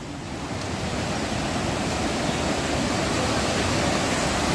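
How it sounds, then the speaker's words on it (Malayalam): A foaming forest stream at Attamala, Mundakkai, rushing in a dense, steady roar of water, close and loud with no break. "നമ്മുടെ അട്ടമല മുണ്ടക്കൈ ഭാഗത്തെ പുഴയാണ്"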